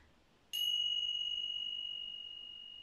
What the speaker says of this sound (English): at the end of relaxation, I'll make a little sound with these bells.